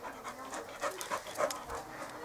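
A dog pants in quick, steady breaths, close and moderately loud, with faint whimpery sounds mixed in and no talking over it.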